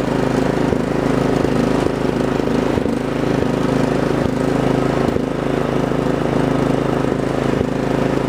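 A Craftsman R1000 riding lawn mower runs at high speed while climbing a hill. Its engine makes a loud, steady close drone with faint regular thumps throughout, and no one speaks.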